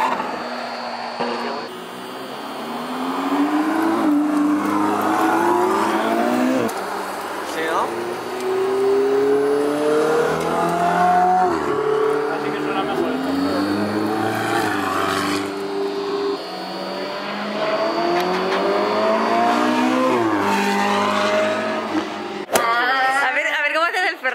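Sports cars roar past on a racetrack one after another, their engines rising in pitch as they accelerate through the gears, loud and close.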